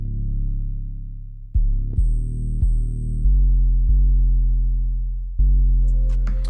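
Deep 808 bass notes from an ambient hip-hop beat, a few long sustained booming tones that restart in sequence with a soft high accent, loud and alone with no talking.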